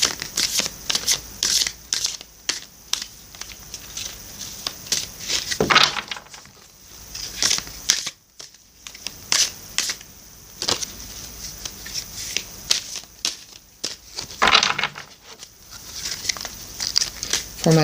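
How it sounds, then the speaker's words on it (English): Close, continuous shuffling of an oracle card deck: crisp riffling and papery slapping in repeated bursts, with a few brief pauses between rounds. "I'm shuffling now for you the Crystal Mandala Oracle deck."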